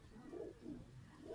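A long-tailed pigeon at a rooftop loft coos softly in a few low, rolling phrases, faint and without speech.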